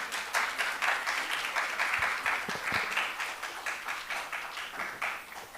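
Applause from an audience at a student government awards and inauguration ceremony greets the Atlanta campus senators, with clear individual claps that thin toward the end.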